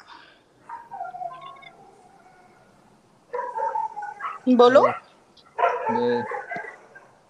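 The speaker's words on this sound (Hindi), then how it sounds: "अरे भाई आपके वहाँ कुत्ते भौंक रहे हैं।" Dogs bark somewhere on the far end of a call, with short bursts mid-clip partly buried under steady talking.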